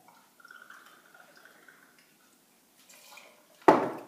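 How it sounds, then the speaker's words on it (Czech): 50 ml of vodka poured into a mixing vessel already half filled with ice, heard as a soft trickling fill. A sharp, loud clink of liquid and ice follows near the end. "Do té nádoby dám 50 ml vodky."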